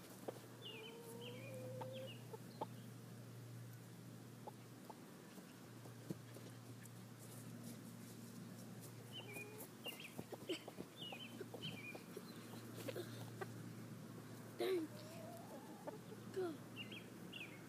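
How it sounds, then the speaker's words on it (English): Chickens cluck softly at a distance outdoors, with scattered short calls through a steady low hum and background noise. "Oh, chickens!"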